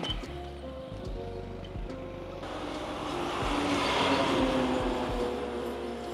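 A state transport bus passes along a roadside, its engine rumbling nearby and swelling into a broad rushing whoosh as it goes by, then fading back.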